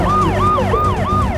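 Ambulance siren wailing in repeated rising-and-falling sweeps, loud and close, over steady road traffic noise on a street.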